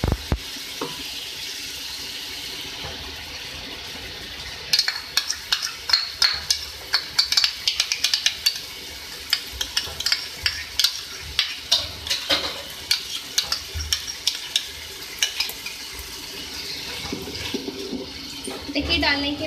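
Yogurt stirred and fried in a pot with beef, chana daal and softened tomatoes, with a steady sizzle broken by repeated scraping stirs of a spoon against the pan.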